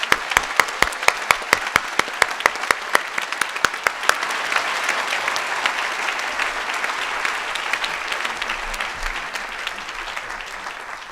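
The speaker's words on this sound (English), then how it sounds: "I just want to give them a round of applause also." An audience at a medal ceremony under a tent applauds, with sharp separate claps at first that merge into dense, sustained clapping.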